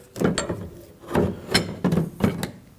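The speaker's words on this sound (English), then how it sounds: "we'll go ahead and use a T40 Torx bit. Pull the bolt out of there." A T40 Torx bit works out the tailgate step arm bolt on a 2009-2014 Ford F-150, with several close metallic ratcheting clicks and clunks in uneven bursts, fairly loud with no voices.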